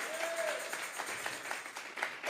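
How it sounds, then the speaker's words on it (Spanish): A church congregation at a Sunday service claps together as an offering of applause, a brief burst of many hands under a faint sustained tone, moderately distant and fairly soft. "Vamos a regalarle ofrenda de palmas al Dios de la gloria."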